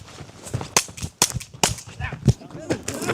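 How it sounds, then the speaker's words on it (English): Several sharp gunshots ring out in quick irregular succession from a shooter running backwards during a Tueller drill, loud and close, with scuffling movement between shots. "I'm going to run backwards and shoot behind me"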